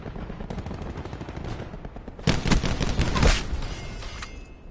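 AK rifle fire in a first-person shooter, steady automatic bursts at a distance that swell into louder, closer volleys of rapid shots before tapering off, with no talking.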